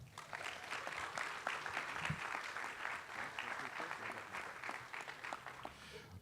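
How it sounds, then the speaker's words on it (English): An audience at a VIA Rapid Green Line milestone celebration gives sustained clapping for the county judge, a steady, fairly distant round of applause. "A round of applause for our county judge"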